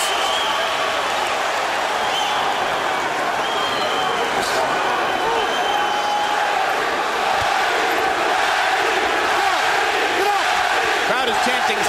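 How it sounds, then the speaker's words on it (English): A boxing crowd at a world lightweight title fight chants a fighter's name in a loud, continuous roar that fills the whole stretch, with a commentator talking over it. "Crowd is chanting Spatty, Spatty, Spatty, trying to lift their fighter."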